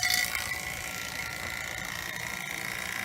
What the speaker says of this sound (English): I'm going to turn on the pump